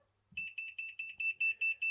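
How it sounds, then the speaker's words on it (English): A green 360-degree laser level signals it is not level with a rapid series of short, high-pitched electronic beeps, evenly spaced and fairly close, with a faint click just before they begin. "Flashes and beeps to let you know that it's not level."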